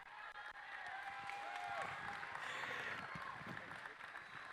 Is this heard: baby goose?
no